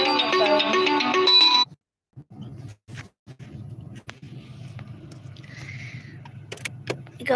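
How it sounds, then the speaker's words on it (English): Car low fuel warning chime: a bright, multi-tone electronic chime rings steadily for under two seconds, then cuts off into a quiet cabin with faint rustles and small knocks. "Oh, that was just my gas light."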